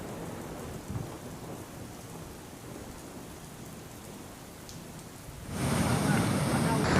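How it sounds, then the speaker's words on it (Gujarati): Heavy rain pours steadily in Porbandar on the Gujarat coast, a dense continuous wash that swells louder near the end, with a faint low rumble of thunder in the background. "પોરબંદરમાં મધરાતથી વરસાદ શરૂ છે"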